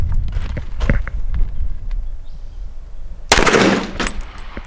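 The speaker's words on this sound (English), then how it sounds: "That's gonna shoot our 45 ACP. It's 230 grain out of a Rock Island." A Rock Island pistol firing a 230 grain .45 ACP round outdoors, a single sharp, loud report late in the clip, preceded by a few faint knocks and shuffling sounds.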